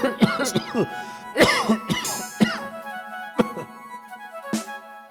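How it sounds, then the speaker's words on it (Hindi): A few short coughs and throat-clearing sounds at close range, mixed in with a voice talking. "काम करते करते अचानक से माँ को खांसी आती"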